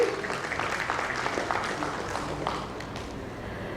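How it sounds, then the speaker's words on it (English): Applause from the audience at an insurance summit and awards event rolls through the hall, a steady crowd clapping that gradually thins toward the end. "Please give a huge applause for a wonderful presentation."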